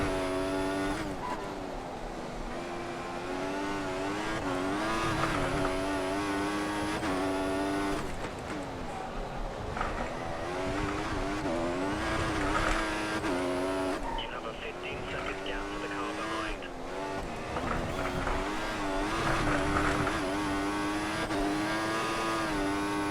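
F1 car engine at full throttle in the F1 2014 racing game, a loud sustained high-pitched whine rising and falling through gear changes, running continuously with brief dips.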